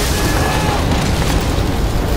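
A bomb blast in Crysis 2 fills the space with a loud, dense, sustained roar of rumble and hiss, unbroken for about two seconds, with no talking.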